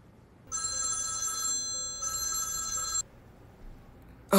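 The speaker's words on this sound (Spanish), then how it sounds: "Contesta el teléfono." A telephone bell rings in two long electronic trills of about one and a half seconds each, with a brief gap between them, loud and clear above a quiet room tone.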